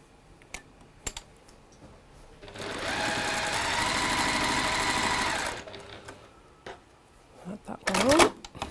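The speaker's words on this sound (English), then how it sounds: "We can sew these three together." A sewing machine stitches fabric pieces together in one steady whirring run of about three seconds, close by, framed by a few clicks and handling knocks before and after.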